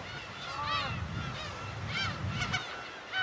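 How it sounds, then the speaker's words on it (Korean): Black-tailed gulls call on Dokdo island, several plaintive, mewing cries rising and falling over a steady rush of wind or surf, fairly close and repeated in loose succession. "독도에서 괭이갈매기는 봄, 여름엔 언제든지 만날 수 있습니다."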